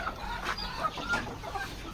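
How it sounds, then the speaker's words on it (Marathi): Native village chickens cluck softly at a distance in a farm pen, a few scattered short calls over a quiet background. "ह्या बघा आपल्या मस्त अशा कोंबड्या ओरिजिनल गावठी"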